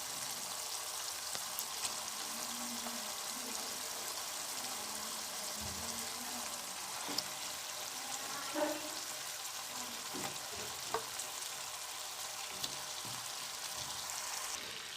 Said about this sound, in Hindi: अब इसमें हम 4 हरी मिर्च ऐड करेंगे और फिश जो हमने फ्राई की थी।